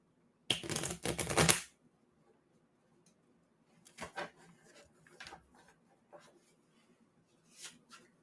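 A deck of playing cards being shuffled, one loud riffling burst up close followed by quieter scattered flicks and taps of cards being handled.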